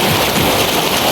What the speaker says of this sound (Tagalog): Kasi tumatama dito yung tubig.